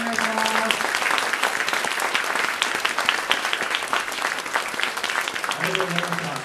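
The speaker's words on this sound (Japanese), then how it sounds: "それでは拍手をお願いします。" A concert audience claps steadily and loudly after a British-style brass quintet of a naval band at an outdoor festival. A voice is heard briefly at the start and again near the end over the applause.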